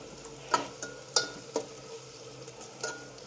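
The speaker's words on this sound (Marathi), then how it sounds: "कांदा कच्चा नाही ठेवायचा वेळ लागला तर चालेल पण चांगला असा तळून घ्या" Onions frying in a pan for vegetable biryani, with several sharp clinks and scrapes of a spoon stirring against the vessel over a soft background sizzle; no one speaks.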